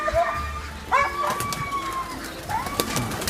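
Pigeons on a Palakkad farm make several short warbling calls and chirps at feeding time, with some nearby clatter and low voices.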